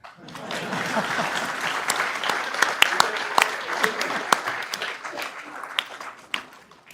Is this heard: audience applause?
yes